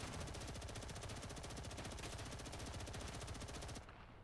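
Rapid automatic gunfire in the Space Engineers video game shooting up a vent, a dense unbroken burst of loud shots for nearly four seconds before cutting off abruptly into a quieter tail.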